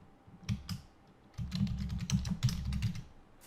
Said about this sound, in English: I'm just going to type right now